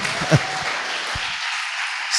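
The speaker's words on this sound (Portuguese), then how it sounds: "Você pode aplaudir o nome do Senhor" Brief applause rises from a church congregation during a Sunday sermon, a soft diffuse patter of clapping that holds steady and then fades, with a faint voice near the end.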